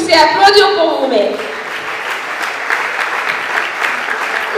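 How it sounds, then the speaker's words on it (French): Audience applauding themselves at an evening church gathering, steady clapping that starts under a fading voice and continues alone at moderate loudness. "J'aimerais que vous puissiez applaudir pour vous-même."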